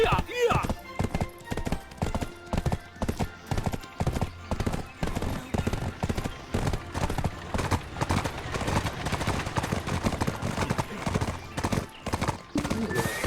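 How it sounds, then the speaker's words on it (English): Horse hooves gallop in a rapid, even clip-clop rhythm across the Black Desert game world, loud and continuous from start to finish, with a brief whinny. "we can hop up on our horse. We'll go take off."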